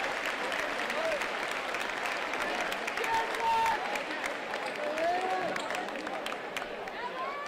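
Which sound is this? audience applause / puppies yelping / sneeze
audience applause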